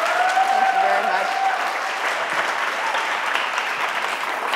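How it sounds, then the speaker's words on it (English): An audience applauds Dr. Stotsky after a talk in Bismarck, North Dakota, a dense sustained clapping from a room full of people that starts loud and tapers slightly, with a brief voice heard near the start. "let's give Dr. Stotsky a round of applause"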